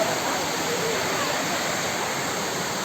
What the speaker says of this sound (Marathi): हे बघा दिसतंय का धबधबा